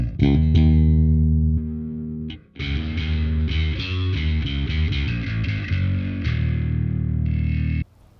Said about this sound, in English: I'm going to check how I can create a distorted sound based on our fundamental sound.